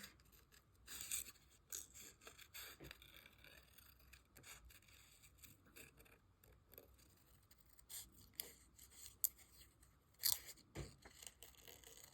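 Scissors snipping paper to trim excess from a cut-out flower during a children's craft session, a series of quiet, close, irregular crisp cuts scattered over several seconds against a soft room background.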